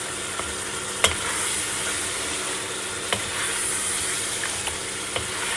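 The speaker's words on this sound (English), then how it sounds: "And we're going to put some bay leaves, cinnamon, cumin and black cloves in. And we're just going to give this a mix now." Spices including bay leaves, cinnamon, cumin and black cloves stirred in a pot for lamb biryani, a steady sizzle and hiss with a few sharp clinks of the spoon against the pot, close and without speech.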